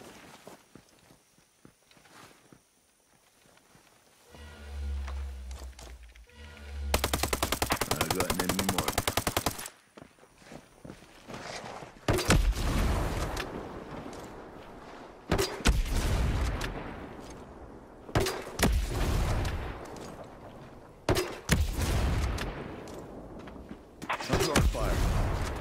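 Hostile gunfire in a video game firefight comes in repeated loud machine-gun bursts and scattered shots, with footsteps and voices at times between the volleys.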